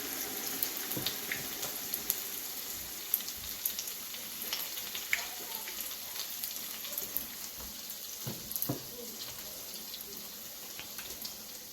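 Akara bean cakes frying in very hot oil, a steady crackling sizzle with scattered sharp pops and light clatter throughout, fairly quiet and uninterrupted by speech.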